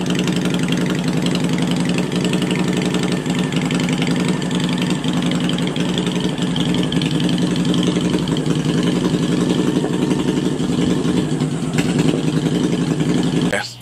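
A Honda Shadow Ace 750 lowrider motorcycle engine runs steadily nearby with a loud, even low rumble and throbbing idle, holding without pause until it cuts off at the very end.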